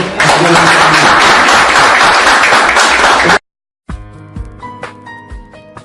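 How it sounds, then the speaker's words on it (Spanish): Audience applause in a church, a dense, loud round of clapping for about three seconds that stops abruptly, followed by soft instrumental music. "Den un buen aplauso"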